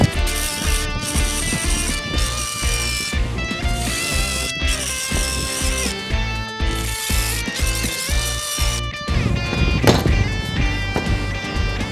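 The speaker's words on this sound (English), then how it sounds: "So what I like to do here is get my wire wheel" A wire wheel scrubs the nuts on a York combustion blower mount, giving a continuous harsh, ratcheting metallic chatter with rapid repeated clicks and brief surges, close and loud with no talking.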